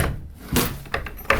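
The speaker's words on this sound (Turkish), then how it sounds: "kapı açılmıyor" A wooden door in a horror video game is rattled but won't open, giving a few short knocking thumps and scraping bumps in quick succession, close and fairly loud, with no talking.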